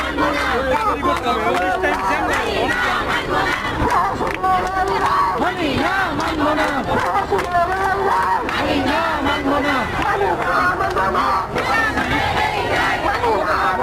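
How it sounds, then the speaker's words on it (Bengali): A crowd of recommended primary school teachers marches in a street protest demanding their appointment, loudly chanting slogans together in a continuous, rhythmic roar with shouting voices throughout. "তারা কিন্তু সামনে দিয়ে কিন্তু এগিয়ে আসছেন এবং তারা কিন্তু বিভিন্ন বিভিন্ন স্লোগান"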